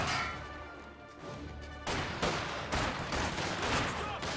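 An artillery barrage in the Company of Heroes 2 video game: dense, continuous booming explosions and crashing impacts that intensify partway through, loud and sustained.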